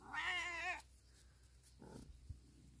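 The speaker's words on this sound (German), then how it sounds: "Und da ist mein Kater." A tomcat lets out one loud, drawn-out complaining meow up close indoors, followed by a pause and a few faint rustles and small noises.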